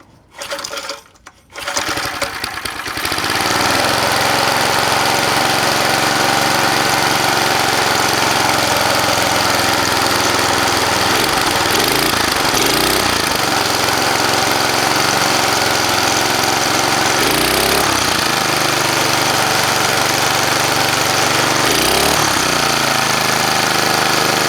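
Small engine of a vintage McLane reel mower and edger, with a bad fuel pump diaphragm and burning some oil, coughs briefly after choking then settles into a loud, steady, buzzing run with a few surging dips.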